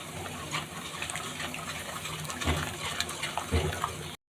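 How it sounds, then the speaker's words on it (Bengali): Water poured into a cooking pot of lentils, a continuous close splashing pour lasting several seconds, with a couple of louder sloshes near the end and no talk. "এবার দিয়ে দিচ্ছি জল,"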